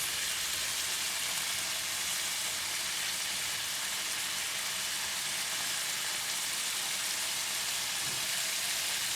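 Bean sprouts stir-fry with sesame oil, pepper and oyster sauce, giving off a steady, even sizzle that holds at constant loudness throughout, with no talking.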